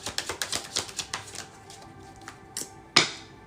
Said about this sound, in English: I didn't shuffle enough. I didn't shuffle enough.